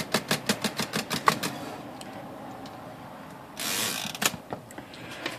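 A Remington Scout manual typewriter carriage travels on its own, pulled by a newly replaced draw band and wound mainspring, giving a rapid even run of ratcheting clicks, then a short rushing slide and a few final knocks.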